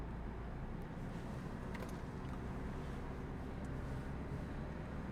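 A car's engine hums low and steady from inside the cabin during a driving lesson, easing back up as the accelerator is gently pressed, with a constant muffled road rumble and no talk.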